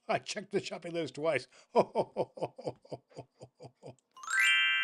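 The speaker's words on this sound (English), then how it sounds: "that glockenspiel sound there, the glockenspiel chimes" A bright glockenspiel chime rings out at a Christmas show with Santa, sounding as a sustained shimmering tone at the end, right after a man's speech stops.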